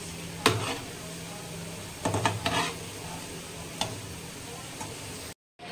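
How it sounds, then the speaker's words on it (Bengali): Lentil fritters (dal bora) frying in hot oil, a steady soft sizzle broken by a few sharp clinks and stirring knocks from the pan. "এখন ডালের বড়াগুলো ভেজে নিচ্ছি।"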